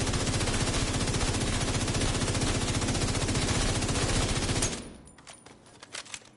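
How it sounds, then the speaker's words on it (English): A light machine gun in a video game fires a long, very rapid, steady burst, loud and close, then stops abruptly and leaves a few scattered clicks and clanks. "Gotta shoot like an LMG. That rate of fire is crazy."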